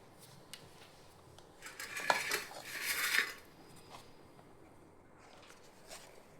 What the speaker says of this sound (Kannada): ನೋಡಿ ಈಗ ತಟ್ಟೆಗೆ ಹಾಕ್ತಾ ಇದ್ದೀನಿ.